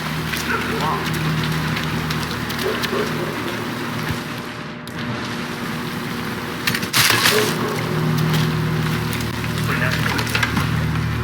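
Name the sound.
rain in the video game Hitman 3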